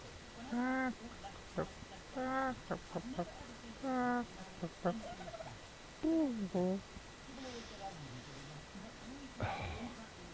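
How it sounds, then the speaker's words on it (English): A dodo in the video game ARK: Survival of the Fittest gives a string of short squawky, gobbling calls in bursts with brief pauses, close and clear over a quiet background. "Dodo makes squawky noises."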